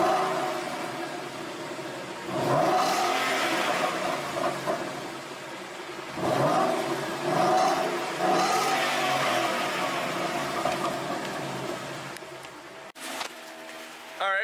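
A 2014 Ford Mustang GT V8 with its stock exhaust idles in a garage, then is revved several times, each rev swelling into a loud, rising roar before settling back to a steady idle rumble.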